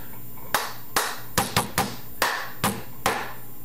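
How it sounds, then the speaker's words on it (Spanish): Hand claps and plastic cup taps in a cup song pattern: eight sharp, close percussive hits in a steady, uneven rhythm, with quiet gaps between them and no voices. "el primer paso son dos palmadas, tres golpes en el vaso, una palmada, golpe del vaso y lo mueves"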